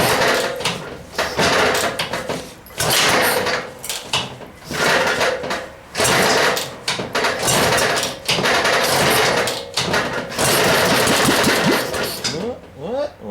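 An old Cushman scooter engine, about 30 years old, is kicked over repeatedly. It gives bursts of rough mechanical clattering and sputtering with short gaps between attempts. It is close and loud, and a voice speaks at times.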